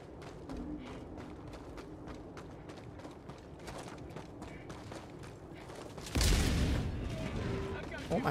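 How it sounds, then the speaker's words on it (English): Video game gunfire crackles in a rapid, fairly distant rattle of repeated shots, followed by a louder explosive burst that rings out near the end. "I can just see the explosions in here and hear the gunshots"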